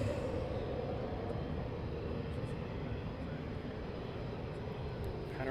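Military aircraft taxi at RAF Coningsby, giving a continuous, even engine roar and rumble at moderate distance that holds steady throughout, with no voices.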